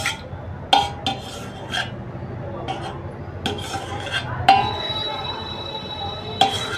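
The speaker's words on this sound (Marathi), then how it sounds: "आता आपण एका कढईमध्ये टाकून सर्व गॅसवर पुन्हा ठेवून जरा ते घोटून घेऊया" Sweet and sour lemon pickle stirred in a wok on a gas stove, with a metal spoon scraping and clinking against the pan in irregular, close strokes and occasional sharp clangs.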